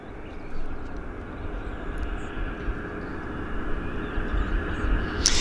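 A jet airliner at Vancouver International Airport begins its takeoff roll, a steady broad engine roar heard from a distance that gradually swells louder, with no talking.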